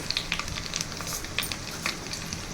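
Chana dal, urad dal and mustard seeds crackle and spit in hot oil while tempering for katte pongali, a soft, steady frying sizzle dotted with quick popping bursts, close by and fairly quiet, with no talk.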